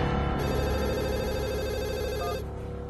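An indoor telephone rings with one long, steady electronic trill that stops abruptly, leaving a low background hum.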